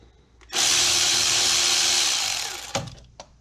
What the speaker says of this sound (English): using a 6mm socket, we're going to release this clamp down here